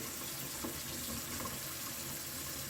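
Tap water runs steadily into a sink as hands are rinsed clean of soap, a constant hiss filling the whole stretch with no voices over it.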